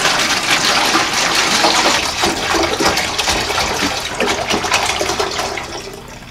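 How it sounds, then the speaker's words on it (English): Evapo-Rust rust-remover liquid poured from its container into a bucket: a loud, continuous gushing splash of fluid that carries on for several seconds and tapers off at the end. "I'm going to pour the contents into this bucket."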